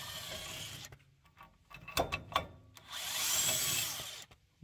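A power tool removes the main pulley bolt from a mower, with short bursts of whirring and ratcheting clatter followed by a longer sustained drilling whine, close and fairly quiet.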